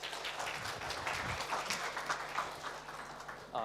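A hackathon audience gives a faint, steady round of applause as a team is welcomed onto the stage, the clapping diffuse and distant.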